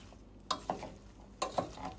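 Saime, eddoes and shrimp being stirred in a pot, with two pairs of soft scraping spoon strokes over a faint sizzle.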